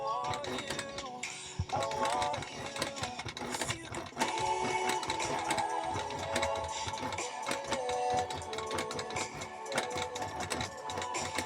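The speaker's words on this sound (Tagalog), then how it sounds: "Kung nakikita nyo, dahan-dahan ko tinatahi." Stitching a replacement bag handle, likely on a sewing machine: bursts of rapid mechanical clattering with brief stops and restarts, close and steady, with some faint voice in the background.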